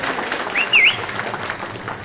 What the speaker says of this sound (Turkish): Sayın şahitlerimize de çiftlerimiz kadar alkışlarla teşekkür ediyoruz.